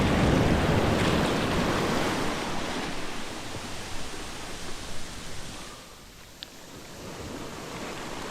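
Ocean surf on a beach at rising tide washes in as a broad roaring rush that gradually fades, with wind buffeting the microphone and a brief small knock near the end.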